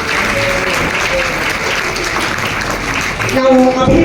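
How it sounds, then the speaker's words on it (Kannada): An audience applauds loudly and steadily at a government high school teacher-felicitation ceremony in Hunnur, with dense continuous clapping throughout and a few voices and tonal sounds rising near the end. "ತಾವೆಲ್ಲ ಜೋರಾದ ಚಪ್ಪಾಳೆ ಮೂಲಕ ಮಾನ್ಯರನ್ನ ಗೌರವಿಸಲಿಕ್ಕೆ ವಿನಂತಿಸಿಕೊಳ್ತಾ ಇದ್ದೇನೆ"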